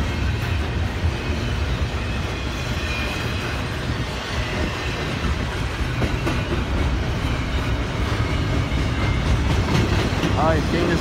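A train rumbles along the tracks at speed at Lake Avenue in Blasdell, New York, with a continuous loud roar and rhythmic clatter of wheels throughout.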